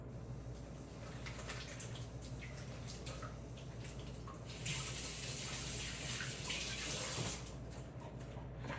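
Tap water runs steadily into a sink while hands are wetted during bread dough shaping, a continuous close hiss that swells louder midway and then eases back, with no speech.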